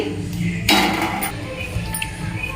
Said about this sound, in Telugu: ఇలాచీ వేసుకొని ఒకసారి బాగా కలుపుకోవాలి.